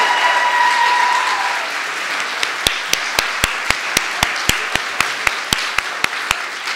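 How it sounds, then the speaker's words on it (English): A church congregation's applause fills the room, a broad wash of clapping that thins out to a few scattered, sharp individual claps toward the end. "give them another round of applause"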